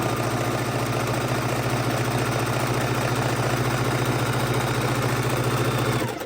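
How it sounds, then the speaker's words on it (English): A sewing machine stitches an art roll, its motor humming in a loud, continuous, even drone for about six seconds before stopping abruptly. "I'm going past and back, and then needle down, foot up, pivot, and then I'm going to sew backwards and forwards"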